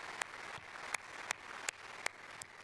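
An audience at a tech keynote event claps steadily. The soft, continuous applause has a few sharper individual claps standing out at regular intervals, heard at a moderate distance.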